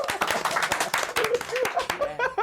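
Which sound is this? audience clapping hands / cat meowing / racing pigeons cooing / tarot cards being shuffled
audience clapping hands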